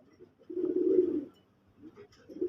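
Racer, gola and lokkha pigeons in a loft coo in soft, low, throaty bursts: one long warbling coo, a pause, then more cooing rising at the end, fairly close and without talk.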